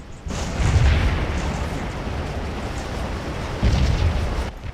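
Massed musket volleys from the 16th Michigan in the Civil War game Scourge of War, a dense, sustained roar of overlapping gunfire with two heavier bursts near the start and end, loud and with no voices.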